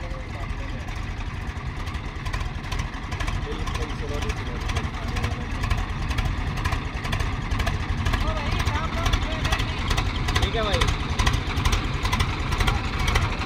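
Swaraj tractor engine labouring up a steep slope in third low gear, a steady close diesel drone that strengthens slightly toward the end, with people talking over it.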